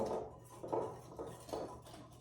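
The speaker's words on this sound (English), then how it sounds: "So then we're going to whisk those ingredients together." Dry ingredients for gluten-free vegan focaccia are whisked in a bowl, giving a soft rhythmic scraping and tapping in repeated strokes, faint and close, with no talk.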